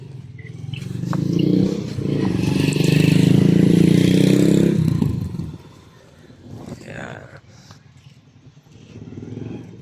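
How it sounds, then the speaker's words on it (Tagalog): Two motorcycles sit at a ship port, and one engine revs up into a loud rising roar before dropping back. Someone talks near the start and end. "Ayan yung aming dalawang motor."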